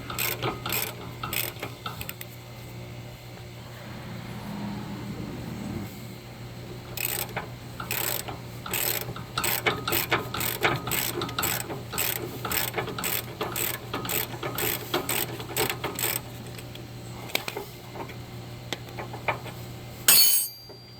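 Ratchet wrench loosening a nut on a Dodge Charger 3.6L Pentastar engine, rapid clicking pawl strokes in repeated bursts, close and fairly loud, with a steady low hum beneath and a final clank at the end.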